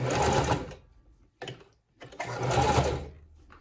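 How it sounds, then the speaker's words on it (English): Sewing machine running a stretch stitch at width 3 along the elastic edge of Lycra fabric for a leotard, in two loud, steady bursts of close mechanical whirring separated by a short pause and a brief stutter. "I'm going to sew it right on the edge of the elastic"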